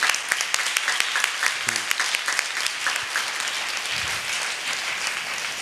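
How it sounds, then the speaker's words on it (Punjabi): A Sunday church congregation claps loudly and steadily, dense sustained applause filling the room with a few scattered sharper claps throughout. "ਜ਼ੋਰ ਨਾਲ ਤਾਲੀ ਮਾਰੋ ਉਹਨਾਂ ਵਾਸਤੇ"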